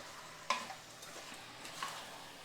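Chicken and tomatoes sautéing for biryani give a faint, soft sizzle broken by a few sharp clicks of a spoon stirring against the pot, with no voices.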